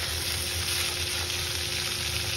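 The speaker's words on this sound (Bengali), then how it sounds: "তেলটাকে গরম করে তেলের মধ্যে একটু হলুদ দিয়েছিলাম, তারপরে সবজিগুলো দিয়েছি।" Vegetables frying in hot oil seasoned with turmeric, a steady, even sizzle with fine crackling throughout, close and continuous with no talk.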